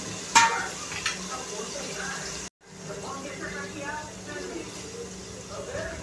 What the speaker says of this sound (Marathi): हे पहा, टोमॅटो फ्राय होतात आहे।